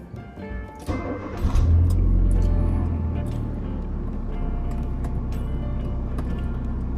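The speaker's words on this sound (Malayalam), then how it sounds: "അപ്പോൾ തൽക്കാലം നമുക്ക് വണ്ടി ഒരു 10 മിനിറ്റ് സ്റ്റാർട്ട് ചെയ്തിടാം" A car engine, left idling to recharge its battery after sitting unused during lockdown, cranks and catches, then settles into a steady, close, low rumble that runs on without pause.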